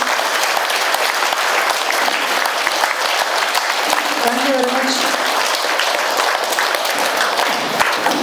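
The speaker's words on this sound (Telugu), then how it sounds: "అందరూ ఒకసారి గట్టిగా చప్పట్లు కొడదాం పత్రిక సార్కి" An audience at a spiritual talk gives sustained, dense applause throughout, with someone briefly speaking over the clapping.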